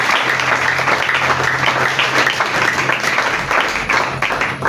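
Congregation at a church worship service applauding and cheering loudly and steadily, a dense wash of clapping and shouts with a low hum beneath, filling the whole stretch.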